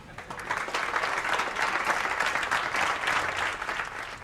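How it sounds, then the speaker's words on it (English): Hotel staff applaud together after news of an award, a short burst of warm, mid-sized group clapping that is fairly close and steady. "a round of applause and thank you to everybody"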